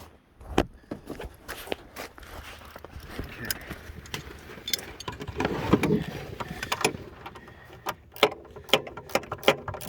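A socket wrench turning during a 700 RMK snowmobile motor install, with irregular metallic clicks and knocks of varying loudness, several sharp ratchet-like ticks clustered toward the end.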